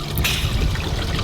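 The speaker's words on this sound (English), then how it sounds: "We're gonna get him back in the water." Fish being released back into the sea while offshore fishing, a short splash followed by steady trickling, lapping water close by, with no voices.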